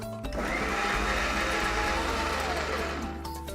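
Electric grinder whirring steadily as it grinds kasundi paste with a little water, a loud continuous motor drone that starts abruptly and runs without pause, with no voices.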